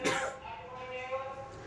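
A child coughs in a short burst, a sharp explosive onset fading into breathy residue, fairly close and moderately loud in an indoor family setting.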